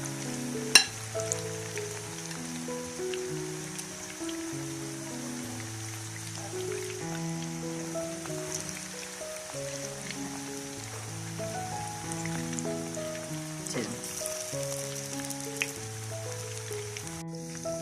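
Chicken pakora frying in oil over medium heat makes a soft, steady sizzle and hiss that continues throughout, partly masked by background music, with a couple of brief knocks.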